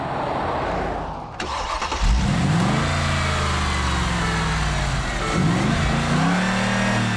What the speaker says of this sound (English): The Mercedes G550 is V8 powered, dolled up inside and shiny everywhere